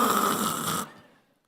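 A voice imitates loud snoring, a single rough, rasping snore held for under a second before cutting off sharply into near silence.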